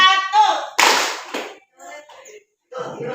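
Children clapping their hands together in a classroom concentration game, a burst of loud claps between stretches of a teacher's voice giving instructions, with pauses of near silence.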